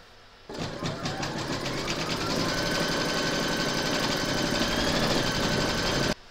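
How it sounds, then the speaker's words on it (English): An embroidery machine stitches the second round of a quilted turkey applique placemat through batting. It starts abruptly, runs as a steady rapid mechanical whirring chatter at close range for about six seconds, then stops. "Pop your hoop into your machine and stitch round number 2 to secure it."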